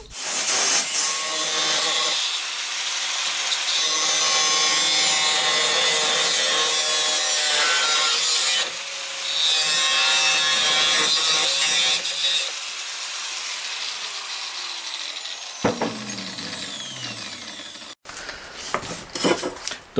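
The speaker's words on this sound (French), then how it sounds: "j'ai découpé grossièrement mes cercles" Wood is sawn roughly into circles, giving a steady, loud rasping cut that runs for most of the stretch before it stops, followed by a few scraping and handling noises near the end.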